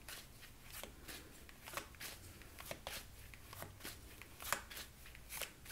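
A deck of Rider Waite tarot cards is shuffled by hand, giving soft, repeated papery riffles and flicks in an uneven rhythm, close and quiet.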